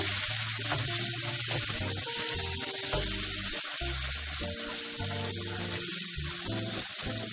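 Mussels and small cuttlefish sizzling in a paella pan, a steady close frying hiss with soft stirring clinks and scrapes throughout, no talk.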